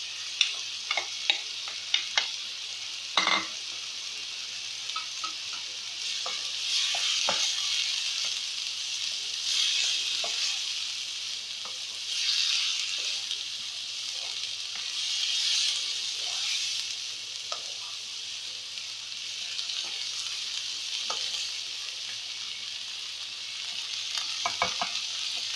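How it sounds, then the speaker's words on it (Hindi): Cluster beans (guar) cooking with onion in a pan, a steady close sizzle and frying hiss throughout with occasional light stirring scrapes and taps, no voices. "ग्वार को प्याज के अंदर थोड़ा सा मिक्स करके पका के"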